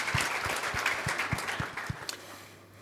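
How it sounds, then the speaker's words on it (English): An audience at a school AI meetup applauds the dads in attendance, a short round of clapping with distinct individual claps standing out, moderately quiet and fading toward the end. "A big round of applause for all the dads here today,"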